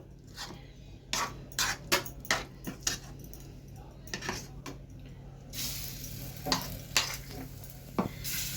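Salted potato pieces for alu tikka slide one by one into a hot pan and fry with a steady soft sizzle, punctuated by sharp clinks and stirring taps of a utensil. The sizzle swells louder partway through.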